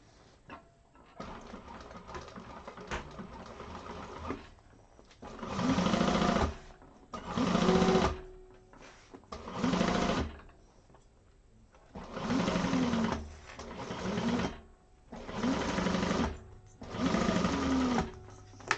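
A sewing machine stitching a quilt block in bursts of rapid whirring, about seven runs of one to two seconds each, separated by short quiet pauses, close and fairly loud.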